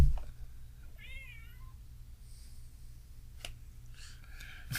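A man imitates a cat's meow in a wavering, warbling voice, followed by a few short snaps and a second higher mewing call, all fairly quiet against a low hum.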